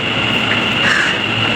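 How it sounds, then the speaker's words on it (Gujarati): A metro train pulls into a station, a steady broadband rumble of wheels and carriages that stays close and even for a moment with no voices. "મેટ્રો આવી ગઈ છે આપણી અને આપણે આ જ મેટ્રોમાં જવાનું છે."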